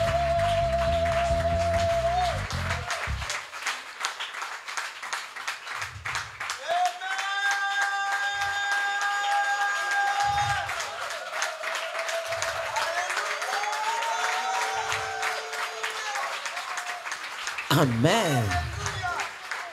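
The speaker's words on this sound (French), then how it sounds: "Mettons-nous sur nos deux pieds et acclamons le Seigneur des Seigneurs." A church congregation at a Sunday French worship service applauds and cheers in a sustained, dense wash of clapping. Voices call out over it, with a sung tone or instrument rising through the crowd noise.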